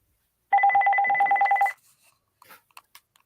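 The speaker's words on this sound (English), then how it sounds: "Oh, Tommy's ringing." A landline telephone rings indoors with one sustained electronic trill burst lasting about a second, loud and close, followed by faint clicks and handling noises.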